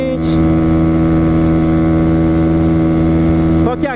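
A motorcycle held wide open at full throttle near 120 km/h produces a loud, close, steady high-revving engine drone with wind rush, shifting briefly right at the end.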